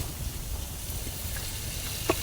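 Sliced onion and crushed garlic sizzle steadily in hot frying oil, a close, even crackling hiss with a faint clink near the end.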